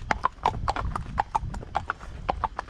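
Horse hooves clip-clopping at a steady walking rhythm on a hard surface while being ridden, close and clear, with faint talk underneath.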